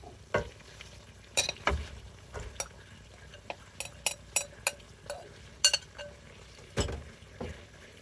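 Fish fries in a pan with edamame while a utensil stirs and scrapes, giving scattered close clinks and knocks over a soft continuous sizzle, with no voices.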